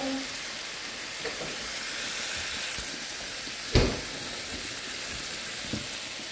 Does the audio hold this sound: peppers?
yes